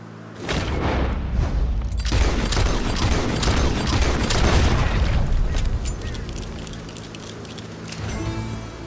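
Gunshot from Red Dead Redemption 2 amid loud, dense booming game action, with a burst of repeated sharp cracks over several seconds before fading.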